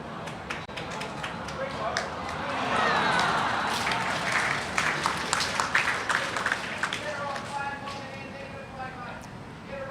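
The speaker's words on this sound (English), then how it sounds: "Consolation applause" Consolation applause from spectators at a men's pairs lawn bowls final in Hong Kong, scattered polite clapping that swells and then thins, with a commentator talking over it.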